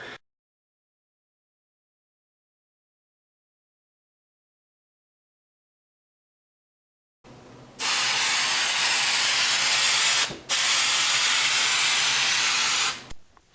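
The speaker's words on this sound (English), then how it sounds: "I'm spraying both the pillar piece and the piece of fabric that I'm going to be wrapping it with" Spray adhesive is sprayed onto an MK4 Jetta headliner pillar and the fabric that will wrap it. After a long silence come two loud, sustained aerosol hisses with a brief gap between them.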